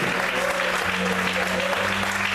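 A church congregation claps and cheers during a Portuguese-language sermon, a dense steady wash of applause throughout with a sustained organ or keyboard tone underneath.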